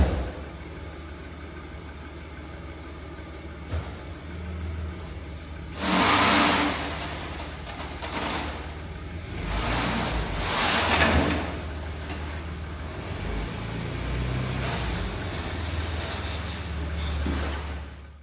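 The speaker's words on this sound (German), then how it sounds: "läuft sehr, sehr ruhig der Motor" An Opel Omega B car engine runs very quietly at a steady idle, with a few brief louder swells and some clunking movement noises in between.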